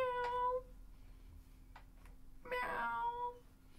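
A cat meows twice as a super sticker sound, two short tonal calls with a pause between them, set against a faint steady hum.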